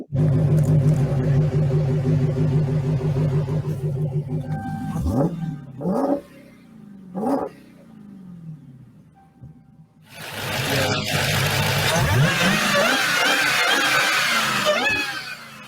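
A car engine with a V8-like tone revs loudly and rumbles steadily, drops away into a few short throttle blips, then returns to a sustained roar, with people talking faintly underneath.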